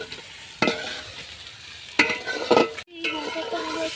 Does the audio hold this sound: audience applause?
no